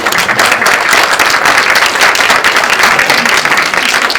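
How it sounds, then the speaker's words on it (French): An auditorium audience at a literary tourism conference breaks into dense, sustained applause, many hands clapping loudly and evenly throughout with no pause. "Je vais l'applaudir,"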